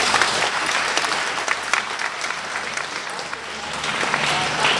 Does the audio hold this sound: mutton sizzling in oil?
no